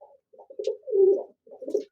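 A few soft, close pigeon coos from a flock in a loft, short bursts separated by brief silences.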